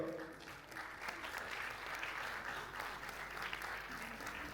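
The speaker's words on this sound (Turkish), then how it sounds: "Bir diğer öğrencimiz alkışlarınızla Güney Demirhan geliyor" Audience applause at a student piano recital, a continuous even patter of many hands clapping in a hall, fairly soft and steady throughout with no speech.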